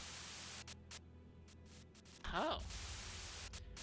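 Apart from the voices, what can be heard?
burst of radio static white noise, video game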